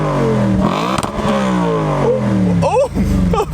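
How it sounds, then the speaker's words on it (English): A wrecked Audi RS5 with a V8 engine and an insanely loud aftermarket exhaust revs hard, rising and falling in pitch with throttle blips and a brief crackle near the end, close and loud. "Okay, so Audi's V8 first"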